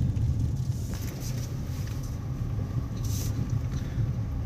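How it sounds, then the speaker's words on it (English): A car crosses a wooden bridge at Liphayan village in Wokha, with a steady low rumble of the vehicle, occasional knocks and creaks, and wind buffeting the microphone. "now I'm gonna show you how it feels like crossing this bridge in a car"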